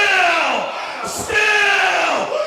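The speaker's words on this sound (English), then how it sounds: "You people can cheer all you want" A wrestling crowd at an RWA show yells and cheers loudly, a dense roar of many voices with rising shouts, briefly dipping in the middle before surging again.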